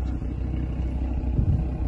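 A steady low rumble comes from an Audi RS3 engine idling nearby, a deep even drone with a slight swell near the end and no speech over it.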